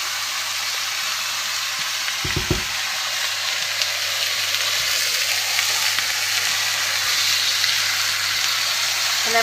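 Lamb chunks and tomato paste sizzle steadily in a hot pan, a dense continuous frying hiss at fairly loud level with a brief low clunk of stirring early on, no voices.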